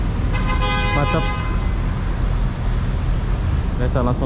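Jammed traffic at Kota Raya, Malaysia, with car horns tooting over a steady roar of idling cars and buses, one horn sounding at the start and another near the end.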